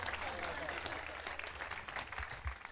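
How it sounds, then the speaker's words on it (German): Birthday concert audience at an open-air forest arena applauding a photographer, dense steady clapping that fills the space, with crowd murmur and a voice underneath. "Applaus für Natascha."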